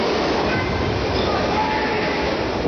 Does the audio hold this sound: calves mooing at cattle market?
no